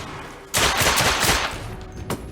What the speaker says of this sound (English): I like the pistol better.